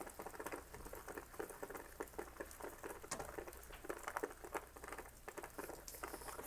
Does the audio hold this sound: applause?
no